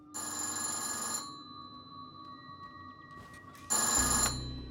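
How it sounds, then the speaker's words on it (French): A home telephone from 1966 rings in two loud bursts of bell tone separated by a quiet gap of a couple of seconds. "est chez elle lorsque le téléphone sonne."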